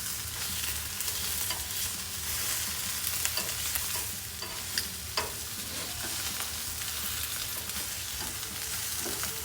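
Crawfish-stuffed catfish frying on a 22-inch Blackstone griddle, a loud continuous crackling sizzle with scattered pops and spatters close by, steady throughout with no talking.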